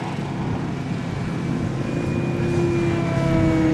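A radio-controlled model Bronco aircraft flies at the Joe Nall event, its engine giving off a steady drone whose pitch slides gradually downward, with a faint outdoor rumble underneath.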